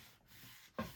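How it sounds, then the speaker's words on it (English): Paper is burnished down with short, soft rubbing strokes, two faint scuffs followed by a firmer, brighter rub near the end, close and quiet with no talk. "Burnish it down."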